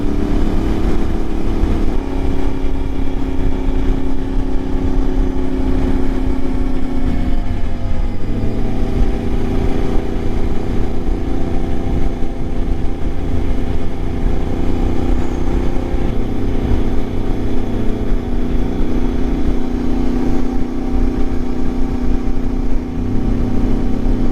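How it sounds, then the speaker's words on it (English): An Ibex 450 motorcycle with an upgraded ECU drones steadily while riding along the Ortega Highway, its engine hum shifting pitch with throttle changes, loud and continuous amid wind rush. "Throttle still smooth, bike still smooth."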